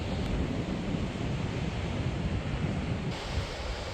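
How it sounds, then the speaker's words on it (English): Ocean surf on the East Coast Trail rolls in as a continuous, loud broadband roar of breaking waves, steady throughout with wind-like rushing and no voices. "The surf out today is incredible."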